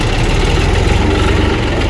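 A tractor engine runs loud and close on a tomato farm, a steady low throbbing idle with dense mechanical vibration and no pauses.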